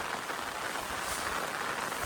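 A Konkan village is drenched in heavy monsoon rain on a new-moon morning, giving a faint, uniform patter and hiss that holds steady through the brief moment, with no speech.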